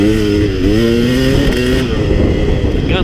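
A KX 450, KTM 250 SX or KTM 300 dirt bike engine revs hard through a gear shift coming out of a corner, a close, loud, continuous buzzing drone that climbs in pitch.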